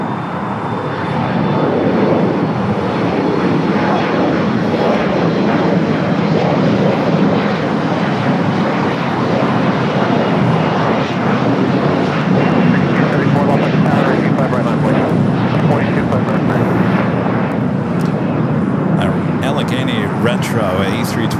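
A jet airliner on its takeoff roll from runway 25 Right at LAX, with loud, sustained engine roar filling the whole stretch and radio voices talking over it.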